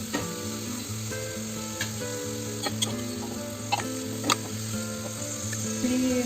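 Vegetables for pulao sautéing in a pan, a steady close sizzle and fry crackle running throughout, with occasional scrapes and ticks of stirring and a slightly louder burst near the end.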